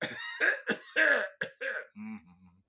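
A voice mimics a patient coughing for a doctor with a run of short, harsh throaty bursts, then a lower, rougher hack trails off at the end.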